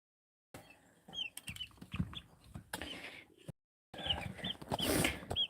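Brahma chickens cluck and call on a farm, close and fairly loud, in bursts with a short quiet gap, with a few brief wing or shuffling noises.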